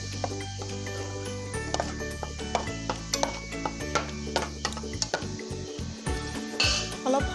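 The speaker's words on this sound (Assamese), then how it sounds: "ভালদৰে হেতাৰে এইখিনি অলপ লৰাই দিব" A spatula scrapes and clinks against a pot as an apple mixture for baby puree is stirred, with a steady run of small metallic taps and scrapes, close up, and no voice heard.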